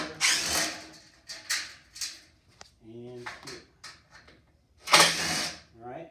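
Short bursts of a power drill backing out screws from a straight edge clamped to rough lumber, several brief whirring pulses spaced apart, with someone talking between them.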